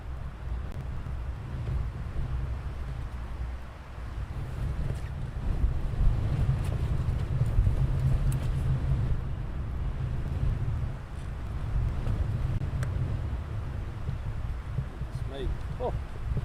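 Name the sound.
strong wind at an airfield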